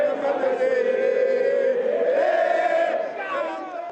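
Football fans of Atlético Mineiro (Galo) celebrating in a closed-off street before a match, a dense, loud crowd roar of cheering and chanting voices that holds steady throughout and dips slightly near the end.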